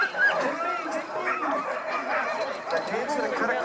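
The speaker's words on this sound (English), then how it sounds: "Now, the dogs in the back of the kennels, they're fun to watch too. Look how excited they get." Excited sled dogs in kennels in Alaska bark, yip and whimper in a busy overlapping chorus, with people talking over the dogs.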